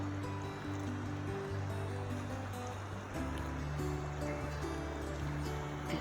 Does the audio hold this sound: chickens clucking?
no